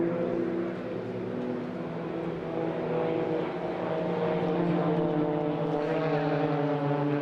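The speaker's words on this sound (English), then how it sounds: "the pilot stalls the aircraft and uses a boot full of rudder to make the aircraft roll rapidly" Blades aerobatic aircraft performing snap rolls at the Eastbourne airshow, a steady, fairly loud propeller-engine drone heard from a distance that holds throughout with slowly shifting pitch and no talk.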